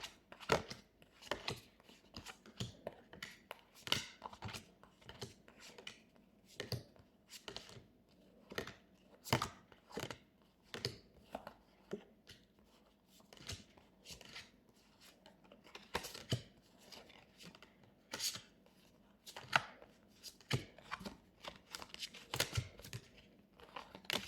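Oracle cards from an animal-themed deck being counted and handled one by one, giving a steady run of soft papery flicks and slaps, close and fairly quiet, with no talking.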